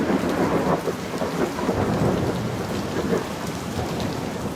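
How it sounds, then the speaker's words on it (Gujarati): Heavy monsoon downpour with strong wind in Saurashtra, Gujarat: dense, steady roar of rain hitting surfaces, with low thunder rumbles rolling underneath throughout, no voices. "ભારે પવન સાથે ધોધમાર વરસાદ ખાબક્યો"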